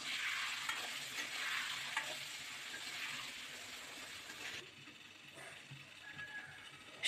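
Boiled potatoes frying in oil in a pan for egg biryani, with a soft steady sizzle and scraping stir strokes, quieting partway through as the pan settles.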